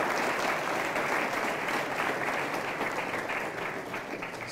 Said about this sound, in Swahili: tupigie makofi jaji wetu